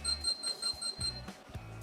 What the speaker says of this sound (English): you hear a beeping alarm